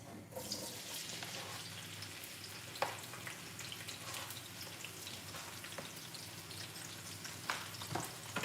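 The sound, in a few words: onions frying in hot oil in a pot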